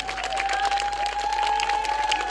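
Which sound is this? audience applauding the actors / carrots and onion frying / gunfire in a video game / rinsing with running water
audience applauding the actors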